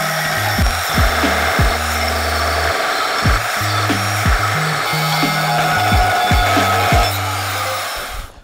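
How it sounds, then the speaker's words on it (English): Power multi-tool cutting through a steel winch cradle, a loud continuous buzzing grind with a steady tonal whine that rises and falls in pitch as the blade works, close up and with no talk. "So I'm going to have to break out the backyard mechanics multi-tool."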